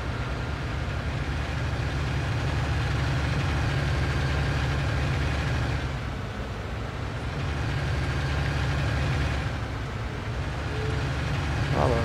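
A tractor engine in the Farming Simulator 19 game drones at a steady low idle-like rumble, loud and continuous throughout with no speech.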